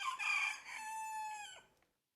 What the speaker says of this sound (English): At that moment, a rooster crowed.